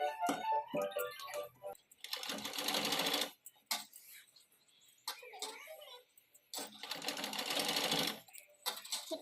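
A sewing machine stitches a neck strip onto a blouse in two loud, rapid bursts of mechanical chatter, separated by quieter gaps with handling noises and some brief speech.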